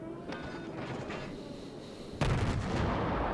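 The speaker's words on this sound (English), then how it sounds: "So keep the guns rolling." Naval guns of the Yubari light cruiser fire in World of Warships, a faint distant boom early on, then a louder blast near the end over a constant rumbling battle background.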